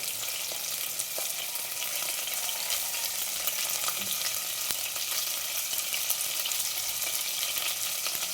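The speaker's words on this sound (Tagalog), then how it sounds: "So this time, prito na" Adobo sizzles and crackles steadily in a hot pan with fat, a constant frying hiss with occasional pops, close and alone.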